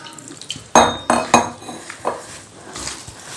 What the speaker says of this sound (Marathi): आता आपल्याला हे मिक्स करून घ्यायचं आहे आणि यामध्ये थोडंसं पाणी घालूया